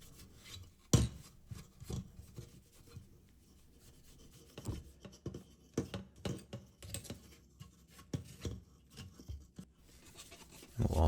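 Cloth wipes grease and dirt off interior trim from an Alfa Romeo Giulia or Stelvio in close, scratchy rubbing strokes. Louder swipes come in irregular bursts over a low background, with no talking.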